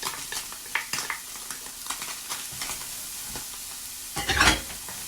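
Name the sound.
cauliflower frying in oil in pan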